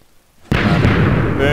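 TNT cannon in a video game firing and launching pigs, a sudden loud boom that gives way to a sustained roaring rumble, close and dense.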